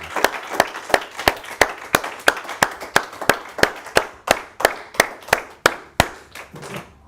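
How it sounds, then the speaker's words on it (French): A church congregation claps in praise for the Lord, sharp, even, rhythmic handclaps at roughly two per second, loud and close, with only faint voices in the background. "Applaudissons pour le Seigneur."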